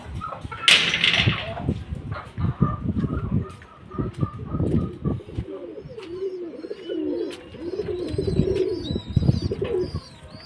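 Pigeons on a small home farm coo repeatedly in soft, throaty rolls, close by, with a brief flutter or clatter near the start and other faint bird sounds around.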